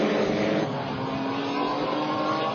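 GT race cars at Homestead in 1999, Wendlinger leading past the number 9 car, roaring steadily at close range in a dense, continuous engine drone with no gaps.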